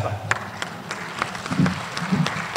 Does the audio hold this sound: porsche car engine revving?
no